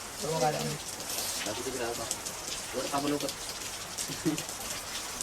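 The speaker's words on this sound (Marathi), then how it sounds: "उतरलाय पाऊस" Steady rain patters on a surface throughout while a person speaks in short bursts close by.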